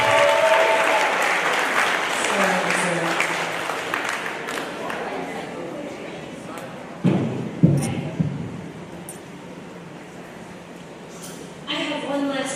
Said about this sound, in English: Could we give a round of applause to Ms. Bach for organizing this today?